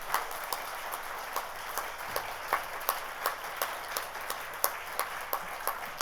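A small audience at a research foundation welcome event gives light applause, distinct claps tapping in a fairly even rhythm, thin and moderately distant.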